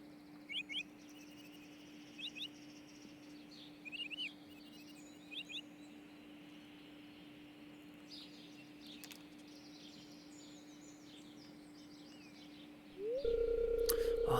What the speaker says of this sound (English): Those birds are, pretty close to be far away, aren't they?